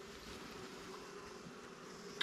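A steady, soft buzzing drone of honeybees from a captured swarm hangs in the air throughout at a new hive, continuous and fairly faint, with no voices.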